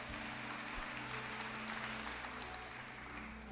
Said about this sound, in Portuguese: Aplauda com força, católico.